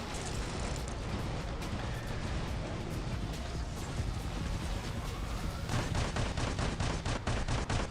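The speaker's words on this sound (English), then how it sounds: "Our absorber shield is active. And we're shooting." Robots in the War Robots mobile game exchange continuous gunfire, a dense, loud barrage of rapid shots and impacts that grows into a faster rhythmic volley near the end.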